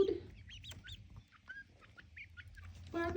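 Quail chicks twenty days after incubation cheep and peep in a rapid, irregular scatter of high chirps, close by, over a low background rumble with no talk.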